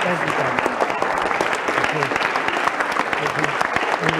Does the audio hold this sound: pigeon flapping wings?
no